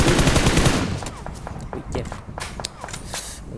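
Shotgun fire in the mobile battle-royale game PUBG Mobile, a burst of close, sharp reports and rattling shots opening the clip, followed by scattered fainter gunshots and footstep-like clatter, with game noise throughout.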